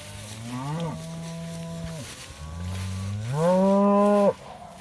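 Cattle in a paddock moo loudly twice, each a long drawn-out low call, the second louder and closer, with a quiet pause between them.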